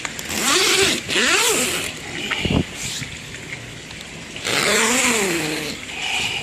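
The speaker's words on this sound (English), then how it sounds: "You also have a zipper here." A zipper rasps open and closed in several quick pulls, close and fairly loud, with brief pauses between strokes.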